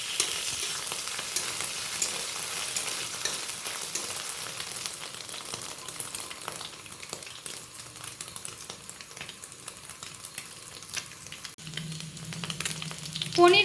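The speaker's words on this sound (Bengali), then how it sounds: "পনিরগুলো হালকা ভেজে নেব। পনির দিয়ে একটু নেড়ে চেড়ে নেওয়া হচ্ছে।" Paneer pieces frying in ghee in a wok, a broad steady hiss of hot fat with light stirring scrapes and a closing clatter of utensils.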